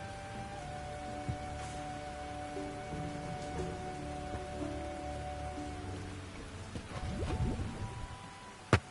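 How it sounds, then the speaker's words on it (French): Rain falling in the video game Tchia, a soft steady patter under sustained musical tones, with a brief louder swell and a sharp hit near the end. "la pluie, elle donne vraiment une ambiance morose un peu au jeu"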